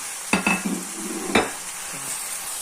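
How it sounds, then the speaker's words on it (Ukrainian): Green peas are tipped into a hot pan and begin to sizzle, with a couple of sharp clatters as they land, then a steady soft frying hiss. "А сюди ми додаємо наш горох зелений."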